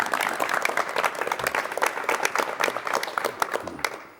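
Studio audience applause greets a guest composer on a 1986 Korean television talk show, a dense, steady patter of many hands clapping at close range that fades near the end.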